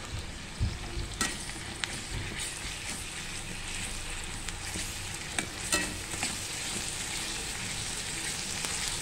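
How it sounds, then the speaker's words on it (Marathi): Ginger garlic paste frying with onion in a pan for a prawn masala, a continuous close sizzle broken by repeated sharp spatula scrapes and clicks throughout. "आलं लसूण पेस्ट पण छानपैकी आपण परतवून घेणार आहे पूर्ण त्याचा कच्चा वास जाईपर्यंत।"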